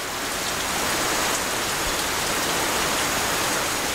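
Heavy rain pours steadily in the Nyungwe montane cloud forest, a dense, even hiss of drops on foliage and ground, loud and unbroken throughout with no voices.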